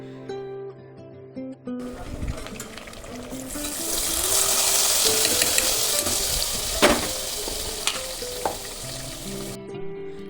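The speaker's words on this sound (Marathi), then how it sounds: "ड्रायफ्रूट्स तुपामध्ये तळल्यानंतर टेस्ट खूपच छान येते याला" Dry fruits sizzle and crackle as they fry in ghee for carrot halwa, a steady loud frying hiss with occasional stirring clinks, starting after a brief quiet opening and fading at the end, with background music throughout.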